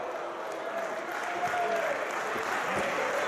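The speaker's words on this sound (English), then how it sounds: "And the crowd is firmly behind John Silver." Wrestling crowd at a Beyond Wrestling independent show cheering and applauding steadily for John Silver after a near-fall, a dense, continuous wash of clapping and crowd noise with no break.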